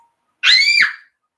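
A child lets out a single short, piercing scream that rises sharply and cuts off after about half a second, alone against silence.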